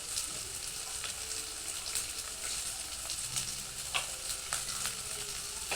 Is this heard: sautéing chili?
yes